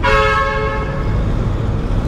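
A horn sounds on the road during a long scooter ride on a Honda PCX 160, a loud sustained tooting tone over steady engine and wind rumble, with no talk.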